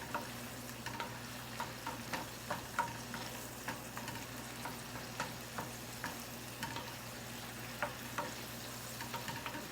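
A pan sauce reduces after being flambéed, simmering with a steady soft sizzle and bubbling while a utensil occasionally scrapes and stirs, close and fairly quiet, no voices.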